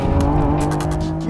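Lamborghini Revuelto V12 engine running loud and close, a steady harmonic roar with some sharper high bursts, heard alone without talk.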